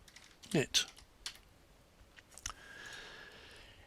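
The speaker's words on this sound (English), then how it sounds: "Click there and you type in the text SeniorNet" Keys clatter on a computer keyboard as text is typed, a few quick irregular clicks and taps, close and fairly quiet against a hushed room.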